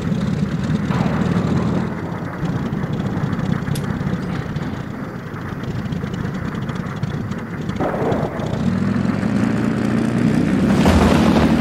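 A SIAI-Marchetti SF260D propeller engine in flight in the X-Plane 11 simulator, a loud continuous drone that holds steady throughout, with brief swells partway through and near the end.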